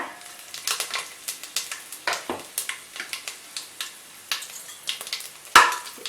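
Bay leaf, cardamom, fennel and cinnamon frying in ghee and oil for mushroom biryani, a soft sizzle with irregular close stirring scrapes and one sharp clatter of a utensil near the end.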